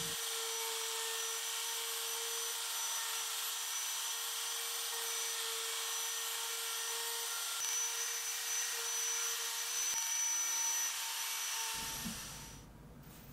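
A router machine cutting wooden Catan game tiles gives a loud, steady high-pitched whine that runs on unbroken before dropping off near the end.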